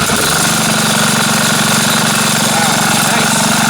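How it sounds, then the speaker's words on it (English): A Honda GC160 5.0 horsepower small engine, recently repaired after its cam pulley gear was replaced, runs at a steady, loud idle with a continuous low chugging hum throughout. "I just want to see how this engine runs before I rev it up a whole bunch"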